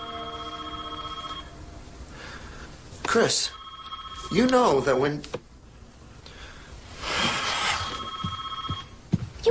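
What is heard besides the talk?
telephone bell ringing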